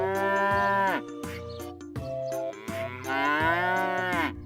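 A cow lows several times in long, drawn-out moos with short breaks between calls, loud and close, with no other sounds around it.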